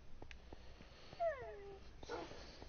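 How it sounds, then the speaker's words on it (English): A cat makes a short, quiet meow-like cry close by, with a faint rustle following, heard during a Minecraft survival stream. "Cat, I don't know why you gotta lay right there on my shoulder."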